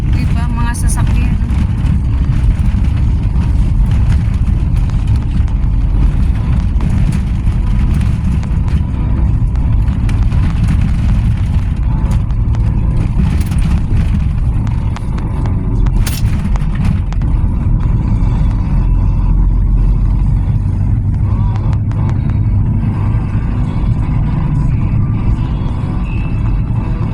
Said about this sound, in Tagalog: Diba, mga sasakyan.